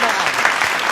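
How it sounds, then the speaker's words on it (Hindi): A live audience at a poetry recital breaks into a short burst of dense, steady clapping, loud and filling the whole moment. "एक बार आपकी तालियों का प्यार मुझ तक पहुंच जाए।"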